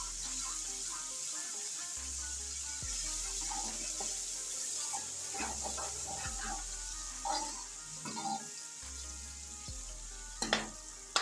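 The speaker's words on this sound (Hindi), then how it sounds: "अब मैं इसमें 1 चम्मच लहसुन पिसा हुआ डाल दूंगी और 1 से 2 मिनट इसकी अच्छे से भुनाई कर लेंगे" Crushed garlic fries with onions in a pan, giving a continuous hissing sizzle with a low hum beneath and a few stirring clatters toward the end.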